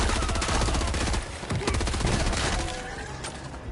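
Rapid sustained automatic gunfire from a drum-magazine gun in the video game Helldivers 2, loud dense bursts that ease off near the end, with distant in-game booms.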